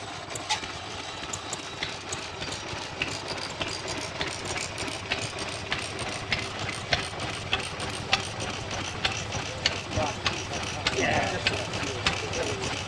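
Stationary engines running behind netting at a classic car show in Pembrokeshire, putting out a steady, mechanical idling chug with rhythmic clatter under crowd murmur and talk.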